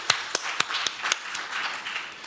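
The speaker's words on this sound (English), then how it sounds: "So we have a round of applause to all of them." Scattered audience clapping at a conference on early childhood parenting: a handful of sharp, separate claps ring out at a moderate distance, then thin into a faint patter with no voices.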